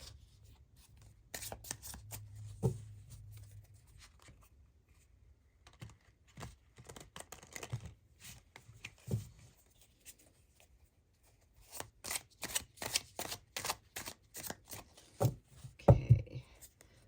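Light Seers tarot cards being shuffled in a series of quick, crisp riffling bursts with pauses between, close and fairly faint, with no talking.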